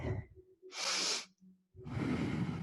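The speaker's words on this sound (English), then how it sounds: "Using your breath, always breathing in and out." Strong, forceful breaths during a kundalini yoga workout, a sharp hissing exhale followed by another long rush of air, close and loud, with no talk.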